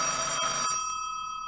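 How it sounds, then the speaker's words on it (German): Telephone ringing in a radio drama, a shrill electric bell trill that rings steadily and then trails off after a second, fairly faint. "Das Telefon, Sir."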